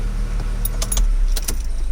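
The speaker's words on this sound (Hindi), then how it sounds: "एक बार चाबी निकालना" Keys of a Tata Nexon Smart+ S CNG car jangle briefly as they are pulled from the ignition, a few quick bright metallic clinks over a low steady hum.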